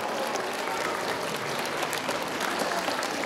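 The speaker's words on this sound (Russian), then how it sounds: "Ваши аплодисменты, друзья." Audience applause at a children's music talent show on stage in Molodechno, a steady, dense clapping that fills the hall for several seconds without pause.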